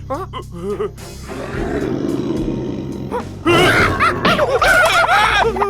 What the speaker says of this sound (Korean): 진짜 사자다!